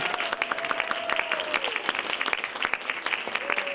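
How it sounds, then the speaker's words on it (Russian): A crowd at a Udmurt cultural festival in Moscow applauds a folk ensemble, with dense steady clapping and a faint sustained tone or whistle running through parts of it. "Ну и давайте же мы искупаем их аплодисментами."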